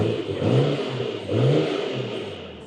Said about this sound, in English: You can hear the turbos a little bit.